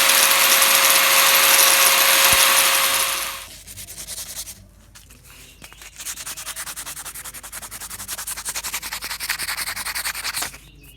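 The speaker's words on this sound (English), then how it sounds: "just take the 150 paper and just rub over each one of those burrs" 150-grit sandpaper is rubbed over burrs on a cane fishing pole in close, loud, rapid scratchy strokes that run continuously, with a brief louder stretch at the start and no talking.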